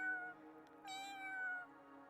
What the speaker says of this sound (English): out pokes the head of a small cat. Its color is split between brown and blonde, and it cries in greeting